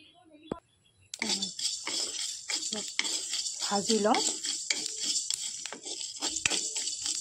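Ingredients for lemon pickle fry on a gas flame in a kadai, with a constant bright sizzle and repeated clanks of a utensil stirring against the metal pan.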